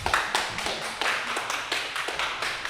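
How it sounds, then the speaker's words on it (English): Audience claps for a guest named Sage, a scattered group of hands hitting in a loose, uneven rhythm with distinct individual claps standing out, fairly close and alone without talk. "Y'all clap it up for Sage"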